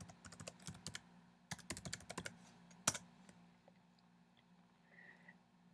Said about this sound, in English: we're going to type in a keyword that we want to search for